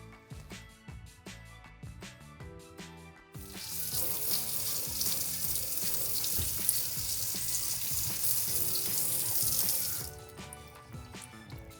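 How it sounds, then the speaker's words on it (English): A Delta single-handle kitchen faucet turns on and water gushes steadily into a sink for several seconds before shutting off, with clinks and handling noises before and after. "let's go ahead and run some water through our system."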